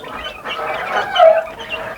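A backyard hen among growing chicks gives soft, close clucking murmurs in a short continuous burst, with no talk.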